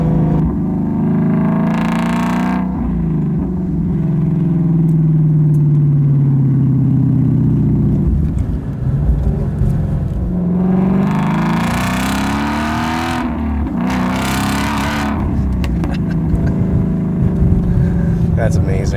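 A 2016 Shelby GT350R Mustang engine revs loudly from inside the car, pitch climbing and falling through several gear changes with sharp blips on downshifts, all close and continuous.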